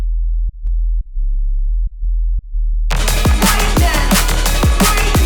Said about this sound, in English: we're going to start with a sine wave for the sub